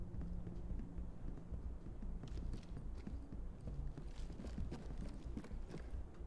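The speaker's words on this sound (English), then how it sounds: "I heard footsteps downstairs." Rapid muffled footsteps pattering continuously downstairs inside the tactical shooter game Ready or Not, faint and somewhat distant.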